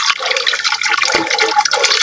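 Water pours and gurgles steadily into a container being filled to water garden plants such as onion leeks, a continuous close splashing fill with no voices.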